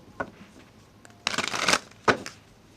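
Tarot cards being shuffled and riffled by hand, with a brief tap, then a dense rustling burst and a sharp riffle near the end, heard alone and close up.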